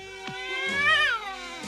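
A cartoon cat in a Smurfs episode gives a single drawn-out, rising-then-falling meow, close and clear, with a faint background tone beneath it.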